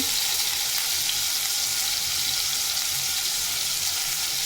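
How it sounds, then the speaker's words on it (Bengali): Spices fry in a pan while being stirred, giving a loud, unbroken sizzling hiss that holds at an even level throughout, with no voices. "গরম মশলার গুঁড়ি দিয়ে ভালোভাবে নাড়াচাড়া করবো।"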